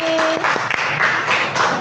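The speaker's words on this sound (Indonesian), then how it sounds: "Beri tepuk tangan untuk Raffi" A classroom of students applauding a classmate, dense continuous clapping from many hands, loud and close, with a brief tone at the start.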